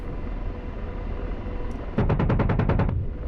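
An AH-64D Apache's cannon fires in DCS World during a dawn port raid, a rapid burst of about nine loud, evenly spaced shots lasting roughly a second over a constant engine and rotor drone.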